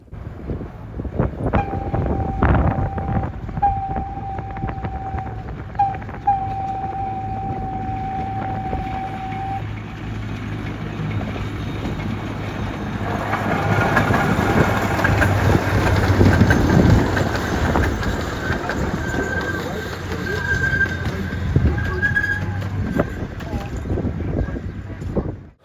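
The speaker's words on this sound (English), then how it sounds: "we caught the train once again heading through the parking lot" A small zoo train rolls through a parking lot with a long whistle or horn tone early on, then a rumbling, rattling pass that swells midway and fades away.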